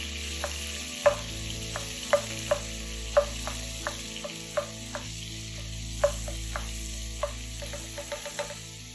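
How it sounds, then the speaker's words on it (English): Minced garlic sizzles gently in melted butter in a pan, a soft steady fry punctuated by regular light clicks of a utensil stirring, with a low hum underneath and no talking. "Once the butter is melted, we're slowly adding the garlic."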